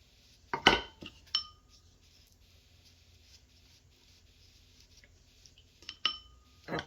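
Fork pressing and crimping the folded edges of meat pie dough, a few sharp metallic clinks and taps against a dish, separated by quiet stretches.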